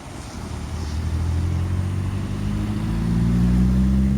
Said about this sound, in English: New exhaust required for the Ford Focus.